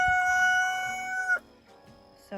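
A rooster crows once in a long, loud, drawn-out cock-a-doodle-doo on a backyard flock's butchering day, followed by quieter clucks and a brief start of another call.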